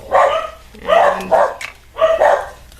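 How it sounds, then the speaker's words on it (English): Several sharp, close barks from dogs outside burst out in quick clusters, with brief pauses between volleys and no talking over them. "of course they have to bark because they were so quiet through the entire video"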